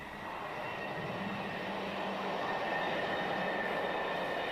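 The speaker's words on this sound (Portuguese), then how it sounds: "Talvez seja por isso que os trens europeus são um sucesso incomparável." A European train runs steadily on rails, a continuous rumbling roll with faint wheel squeal, moderately distant and even in loudness.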